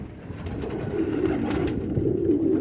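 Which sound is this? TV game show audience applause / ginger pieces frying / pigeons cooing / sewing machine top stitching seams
pigeons cooing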